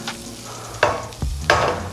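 Butter sizzles steadily in a hot pan as it is spread around before a beef steak goes in, with a few louder scraping pulses of the utensil against the pan over the constant hiss.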